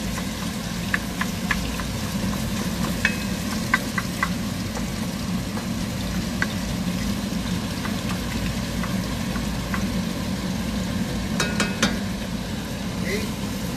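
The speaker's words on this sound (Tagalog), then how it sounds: "Tustahin lang natin ating pork giniling." Ground pork toasting in a pan for pancit palabok, a steady broadband sizzle and crackle that fills the clip at a fairly even level, with scattered brief clinks and pops and faint voices in the background.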